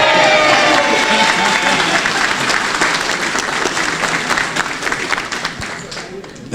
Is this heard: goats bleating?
no